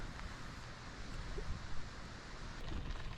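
Cool, windy morning outdoors at a state park campsite, a steady broadband rush of wind buffeting the microphone for the whole stretch, with a few stronger gusts swelling midway and near the end, and no talking.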